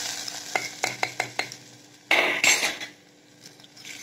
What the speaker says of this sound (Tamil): இப்போ நம்ம எல்லாத்தையும் சேர்த்து நல்லா மிக்ஸ் பண்ணிக்குவோம்